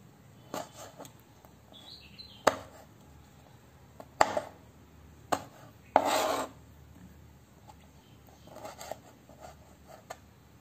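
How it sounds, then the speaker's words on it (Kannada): A knife chops soaked, desalted challe kai into small pieces, giving a few irregular, fairly close cuts and one longer rasping stroke over a quiet background. "ಈಗ ನಾವು ಸಣ್ಣ ಸಣ್ಣ ತುಂಡುಗಳಾಗಿ ಮಾಡೋಣ."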